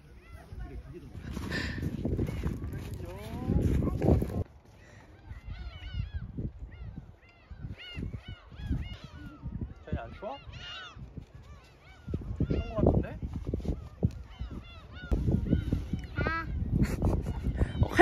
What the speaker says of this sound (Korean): 갈매기다.